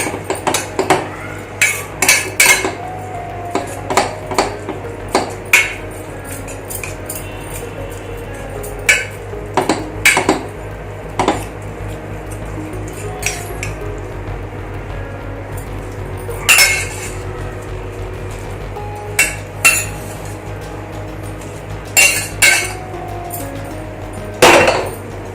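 Cooked kaduka kheer being mashed in a metal pot, with repeated scraping and knocking clinks of a utensil against the pot in irregular bursts, fairly close, with no speech.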